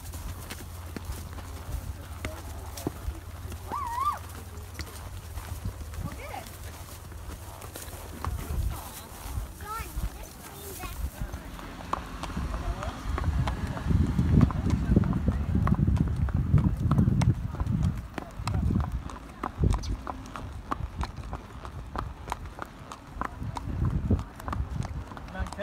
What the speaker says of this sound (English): It's a pretty horse.